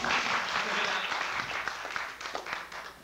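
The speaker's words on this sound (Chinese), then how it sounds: "来鼓掌" An audience in a small campus theater at a National Taiwan University student Taiwanese folk song night claps together in a dense burst of applause that stays strong, then thins and fades over about three seconds.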